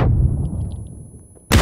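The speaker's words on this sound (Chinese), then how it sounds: "这是迫击炮" Mortar fire in a first-person shooter video game: one heavy, loud boom that rumbles and fades over about a second and a half, then another sharp blast bursts in at the end.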